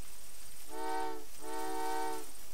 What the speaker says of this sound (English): Oh, wait for a train.